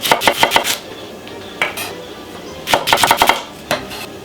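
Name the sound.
chopping red onion with a knife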